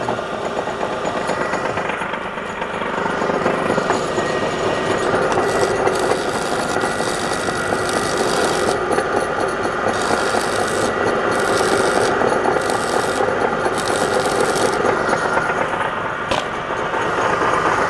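A welder built from a truck alternator joins two iron pieces, giving a continuous harsh crackling buzz with a steady motor hum underneath, loud and close, with no speech.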